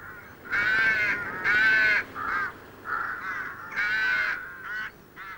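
Rooks calling at a breeding colony during winter courtship: harsh, overlapping caws from several birds come in repeated loud bursts, some near and some slightly farther, with short pauses between them.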